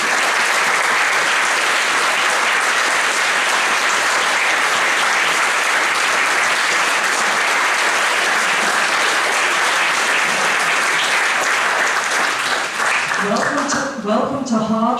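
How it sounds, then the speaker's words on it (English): Sustained, loud applause fills a Liverpool City Council annual meeting chamber as new councillors stand, steady clapping for about thirteen seconds before fading under a voice that starts speaking at the end. "let's give them a round of applause."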